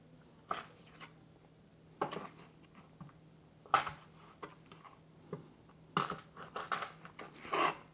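Cooking scissors snip through quail in a scattering of sharp, quiet clicks and cuts, irregularly spaced with short pauses between them, close by against a faint background hum.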